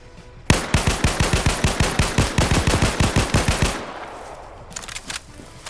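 Rapid automatic gunfire from a PvP video game match: a sustained burst of about twenty evenly spaced, loud, sharp shots that stops abruptly, followed by quieter game ambience.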